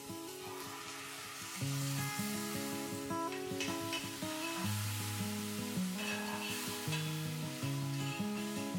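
Tomato puree made from three ground medium tomatoes sizzles steadily in hot oil in a pan, with a continuous frying hiss and some stirring under a constant soft musical background.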